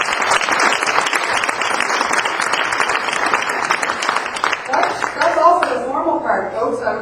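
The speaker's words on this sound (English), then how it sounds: "a round of applause is well in order for us" Audience applause at an ICCC & CIBC reception for South Asian Outlook in Toronto: dense, steady clapping from a roomful of people for about five seconds, then thinning as a voice begins speaking over the last of it.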